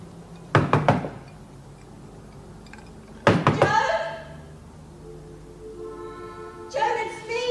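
Someone knocks on a door in a prison drama, two separate bursts of several sharp raps that sound fairly close, with a voice speaking briefly afterwards.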